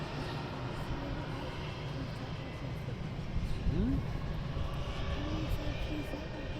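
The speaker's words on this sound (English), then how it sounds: "We have a Wizz Air behind us, taxiing out." A Wizz Air jet taxiing out at London Luton Airport gives a steady, fairly loud engine rumble and whine that swells slightly midway, with faint voices underneath.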